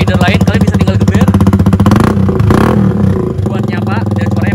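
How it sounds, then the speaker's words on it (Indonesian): Motorcycle engine with a V-twin-style sound, loud and close, pulsing rhythmically through repeated revs with a brief throttle swell midway, with someone talking over it. "Ini bener-bener kayak suara V-twin engine"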